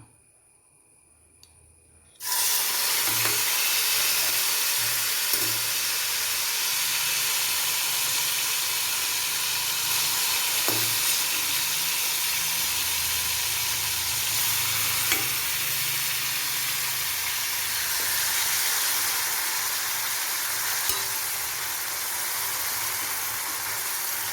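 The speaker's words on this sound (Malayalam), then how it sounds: "ഇതും നമുക്ക് വറുത്തെടുക്കാം അത് കഴിഞ്ഞ് ബാക്കിയും വറുത്തെടുക്കാം" Bitter gourd pieces frying in a pan for pickle make a steady, close sizzle with bubbling hiss and occasional stirring clinks after a brief quiet start, with no talking.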